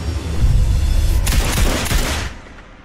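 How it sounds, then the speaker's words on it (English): Gunfire erupts inside an embassy in a film scene: a loud, rapid fusillade of overlapping shots with sharp cracks and low booms over about two seconds before fading. "Shots fired in the embassy."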